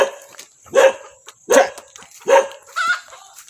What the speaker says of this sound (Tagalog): May asong kumakahol.